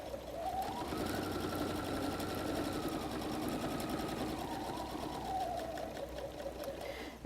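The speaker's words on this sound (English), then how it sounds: "then I'm going to sew across the width of the bottom" Sewing machine stitching across the width of a messenger bag bottom, a steady close mechanical whir running continuously for several seconds with a slight pitch rise and fall.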